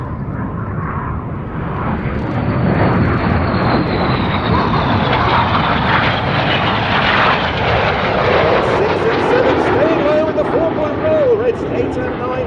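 RAF Red Arrows jet aircraft in an airshow flying display at the Oregon International Airshow: a loud, continuous jet roar that builds and sweeps as the formation passes, with a rising engine whine late in the pass.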